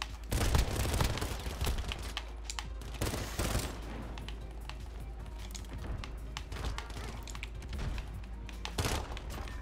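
Rapid automatic gunfire from Call of Duty: Modern Warfare in a Gunfight match, dense bursts and fusillades with sharp thuds, loud and continuous throughout, occasional faint voice underneath.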